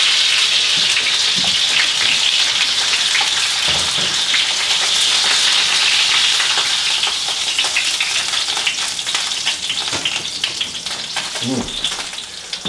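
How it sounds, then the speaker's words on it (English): Tuna or halibut fillets fry in hot oil, giving a steady close crackling sizzle with scattered sharp grease pops throughout, with no talk over it. "Fish is sort of wet, so it's going to naturally make the grease pop."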